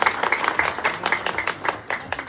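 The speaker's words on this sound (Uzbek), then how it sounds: "Chiroyli qarsaklaringiz bo'lsin onajonimiz uchun albatta." A small group claps steadily at a birthday celebration for an older woman, lively uneven hand claps filling the room at close range with a faint murmur of voices.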